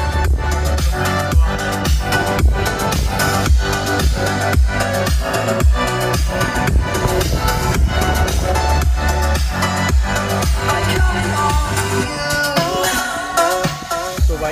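Stock four-speaker company music system in a Hyundai i20 Elite plays music at full volume, loud, steady and continuous, with a strong beat and no talking.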